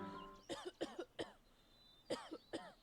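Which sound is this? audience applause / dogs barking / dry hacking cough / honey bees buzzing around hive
dry hacking cough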